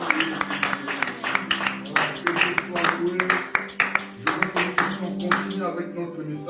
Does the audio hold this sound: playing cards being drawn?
no